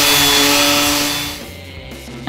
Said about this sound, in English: And then more sanding